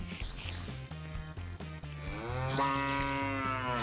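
A cow in a Minecraft Feed the Beast modpack mooing, a long drawn-out low moo rising in strength over a few seconds after softer rhythmic game noises, no voices.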